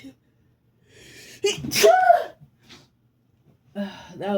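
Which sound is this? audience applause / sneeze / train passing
sneeze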